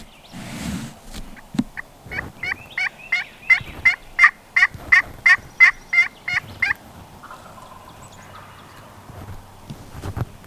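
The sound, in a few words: wild turkeys gobbling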